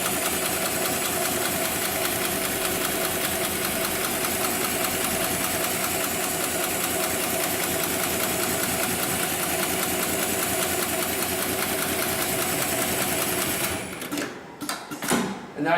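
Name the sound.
Cowboy industrial sewing machine sewing heavy-duty webbing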